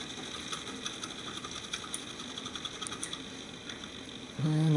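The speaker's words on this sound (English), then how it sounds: "Turn the motor to get it to go in through." A KitchenAid stand mixer motor, with fresh grease packed over its replacement gears, turns the gearbox with a steady, faint, close mechanical whir and ticking, then swells louder at the end.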